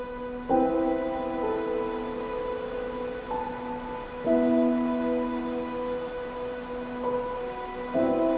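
Rain falls in a soft, steady hiss on a rainy morning, a continuous wash of drops heard beneath gentle sustained musical notes.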